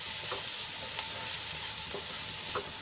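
Chopped onions sauté in hot oil in a pan, a steady close sizzle with a few soft scrapes of stirring, no voices.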